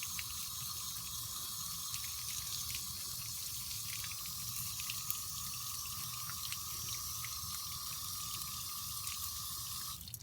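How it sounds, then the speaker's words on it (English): Tap water runs steadily over the soil-covered roots of a plumeria cutting, a continuous close splashing rinse with a faint drip-like ring, no talk over it. "So I'm just going to rinse this off so you can actually see where the roots are coming."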